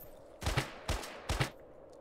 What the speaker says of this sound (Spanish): si le metí tres tiros, cabrón.